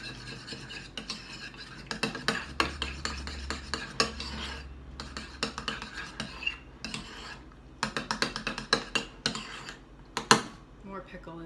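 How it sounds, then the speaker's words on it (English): A spoon works diced pickles into a fish burger sauce in a bowl, giving repeated scraping and clinking strokes in irregular bursts, close and moderately loud, with a low hum underneath. "Stir them together."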